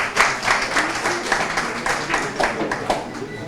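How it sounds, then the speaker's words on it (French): A scattered round of clapping from a gathering of listeners applauding young people of Parakou, moderately loud with distinct individual claps rising and falling over a few seconds. "On peut les applaudir."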